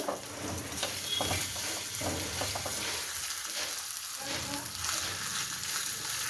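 Ingredients for kara pongal roast in ghee in a pan, a soft continuous sizzle broken by scraping stirs, with no talk.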